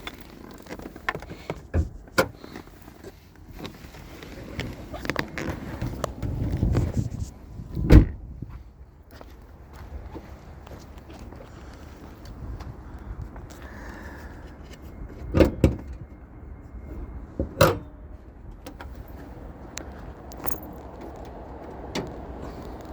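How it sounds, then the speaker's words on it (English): The hood of a 2020 Subaru Ascent is released and opened, heard as a scattering of quiet clicks and a few heavier metallic clunks spread across a calm stretch, with soft rustling in between. "Let's pop the hood in the engine bay real quick."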